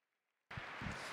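Audience applause at the Saut Hermès 2018 show jumping event, CSI5* Prix du 24 Faubourg, bursts in abruptly after silence as a dense, loud, steady wash of clapping.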